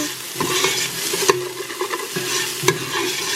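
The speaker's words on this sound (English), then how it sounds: "I'm actually going to let it go a little longer because I do want the onions to be a little more brown than that." Onions browning in a pan, a constant sizzle broken by repeated scraping stirs and a few sharper utensil knocks against the pan, close and clear with no talking.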